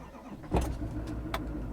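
Truck engine cranking sluggishly on a battery drained from staying plugged into a trailer overnight, a brief labored turnover with a couple of bursts over a low rumble, close and moderately loud.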